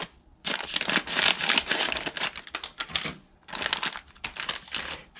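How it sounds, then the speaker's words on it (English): Someone tears open a plastic packet of frozen stir-fry vegetables up close, giving loud crinkling, crackling plastic noise in two dense bursts split by a brief pause. "So I'm going to open up this vegetable packet here."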